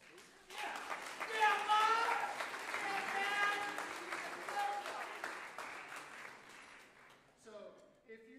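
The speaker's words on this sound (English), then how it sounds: "So give yourselves a round of applause, please." An audience applauds at a university wind ensemble concert, with voices calling and chattering over the steady crowd clapping. The applause swells early, then thins out near the end.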